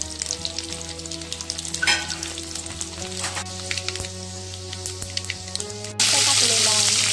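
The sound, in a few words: garlic and turmeric frying in oil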